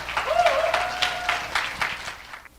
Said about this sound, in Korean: 여러분 큰 박수 부탁드릴게요